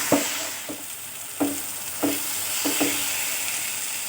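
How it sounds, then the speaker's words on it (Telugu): Spices sizzle in hot oil for a Telugu-style fish curry, a steady close frying hiss broken by several sharp scraping stirs of a spoon against the pan, with no voices. "ఇదంతా ఇలా బాగా వేగాలి ఆయిల్లో"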